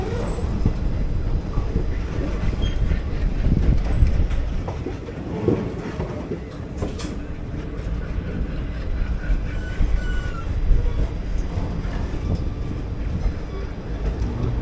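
The 20624 Malgudi Express, seen from inside an AC chair car, pulls out of KSR Bengaluru City station with a steady rumble and faint rhythmic clatter of wheels, while a voice speaks intermittently.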